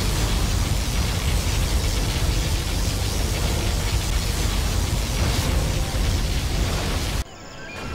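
A sustained, roaring particle cannon blast from the USA laser general in Command & Conquer: Zero Hour, a loud continuous broadband rumble that cuts off abruptly near the end, with no talk.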